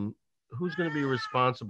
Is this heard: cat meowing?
yes